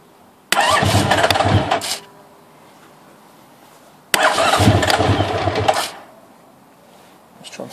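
A Honda VFR1200 motorcycle with a starting fault cranks in two loud, close bursts of about a second and a half each, with a quiet pause between them, and the engine never catches.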